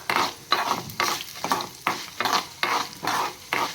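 Dried Byadagi chillies roasting in a pan, stirred in a steady rhythm of about eight scraping strokes over a soft sizzle, close and clear with no talking.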